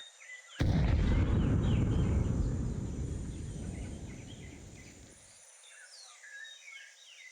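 A grenade blast in Counter-Strike 2 erupts as one loud, booming explosion that rumbles on for several seconds before cutting off, with faint bird chirps in the background.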